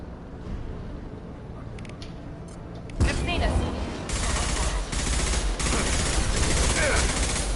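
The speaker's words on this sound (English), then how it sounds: "Blue Suns and Vorcha shooting anything that moves." Gunfire in Mass Effect 2 as Blue Suns mercenaries and Vorcha shoot: quieter crackling at first, then loud, dense, continuous bursts of automatic fire.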